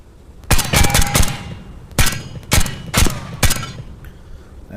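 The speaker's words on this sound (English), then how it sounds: "this is how it sounds with the suppressor" A suppressed Uzi fires on semi-auto in the VR shooter Tactical Assault VR: about five or six sharp, loud muffled shots at uneven intervals, two close together early on, with no talking.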